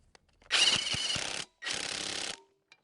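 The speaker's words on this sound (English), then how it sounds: "Still can't get my socket in there." A socket wrench ratchets on the wobble box shaft of a John Deere 900 series combine head. Two close, clicking bursts of about a second each are separated by a short pause, with no speech.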